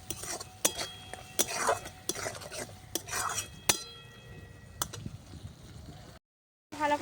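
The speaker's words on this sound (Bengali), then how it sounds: "কাজু পোস্তটা একটু নেড়ে দেবো।" A cashew and poppy seed paste being stirred in a pan over a clay stove. Repeated scraping strokes with metallic clinks come at an uneven rhythm, close and moderately loud, then a brief silence near the end.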